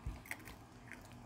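Quiet crunchy chewing of homemade popcorn from rooftop-garden-grown popping corn, a few crisp bites and crackles close to the mic, with no talking.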